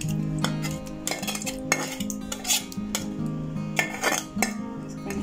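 A spoon mixes food in a metal pot, clinking and scraping against the sides in an uneven rhythm of sharp metallic knocks, close and fairly loud, with no voices.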